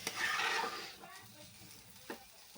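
Cooked sona masoori rice being stirred through tomato gravy in a pot, a soft scraping swirl at first that fades, then a couple of faint clinks of the spoon against the pan.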